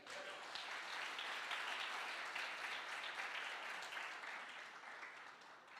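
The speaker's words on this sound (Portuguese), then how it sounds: "Quem está comigo aqui, aplauda Jesus aí." A church congregation applauds in a sermon hall, steady massed clapping heard from a distance, fairly faint but continuous, swelling slightly then easing toward the end.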